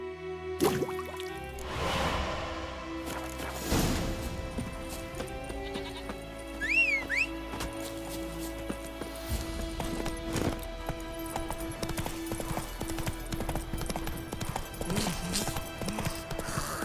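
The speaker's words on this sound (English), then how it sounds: "Whoa there, Roach." A horse in the video game The Witcher 3 moves with rhythmic hoofbeats amid a busy game soundscape of layered animal bleats and ambient tones, with a brief neigh-like call in the middle and voices speaking.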